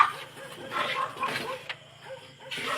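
Dog barking and yipping in short bursts near a household, mixed with excited whimpers and a shouting human voice in the background.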